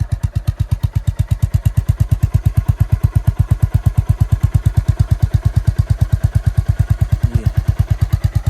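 A motorcycle engine idles fast just after a cold start on a winter morning, a steady rapid thumping pulse that holds loud and close for the whole stretch with no talk over it.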